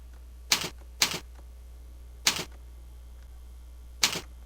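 Computer keyboard keys are pressed for an undo shortcut while editing in Premiere Pro: four crisp, close clicks, two in quick succession, then two more spaced apart, against a quiet room with no voices.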